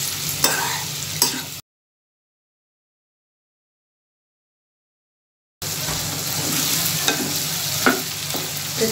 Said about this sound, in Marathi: इथे गॅस हाय फ्लेमवरतीच ठेवून आपल्याला चिकन टॉस करून घ्यायचं आहे.